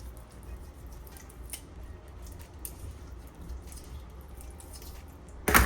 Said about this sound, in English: you're not cutting through any bone because you just cut through the cartilage